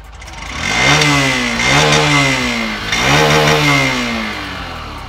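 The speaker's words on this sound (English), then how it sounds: "It gets a side-hung chrome-plated exhaust. Let's check out how it sounds." A Honda Shine BS6 motorcycle engine revs up several times in a row through its side-hung chrome exhaust, each throaty surge rising and falling, loud and close.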